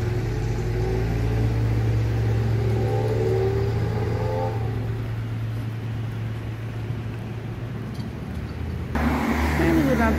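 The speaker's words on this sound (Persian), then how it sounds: "یکی از این مشکلات همین روشن گذاشتن ماشینه." A car engine idles steadily on a quiet city street in Bandar-e Anzali, Iran, a continuous low hum throughout with a louder, rougher burst near the end.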